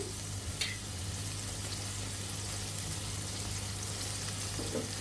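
Okra in mustard paste cooking down in a pan with salt, a faint continuous hiss of frying with a low steady hum beneath and one brief utensil clink near the start.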